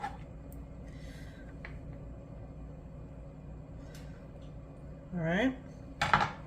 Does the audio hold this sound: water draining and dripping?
no